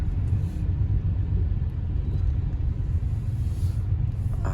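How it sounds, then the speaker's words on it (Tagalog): Heavy road traffic in a congested Philippine street, a steady low rumble of engines and tyres that stays dense and unbroken throughout, with no voices. "Sobra naman talaga yung traffic."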